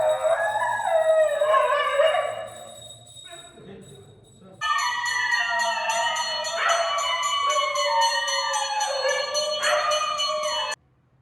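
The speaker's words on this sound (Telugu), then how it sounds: "ఇప్పుడు గంట శబ్దం వినంగానే ఇక్కడ ఉన్నటువంటి ఈ కుక్క ఎలా అరుస్తుందో మీరే వినండి" A dog at a math in Srisailam howls in long, wavering cries while a temple bell rings in rapid, steady strokes during worship.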